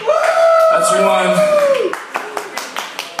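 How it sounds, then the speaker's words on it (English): A live audience at a small venue gives six sharp, evenly spaced claps in unison, following a loud drawn-out shout of a voice. "Six claps for AJ Graver"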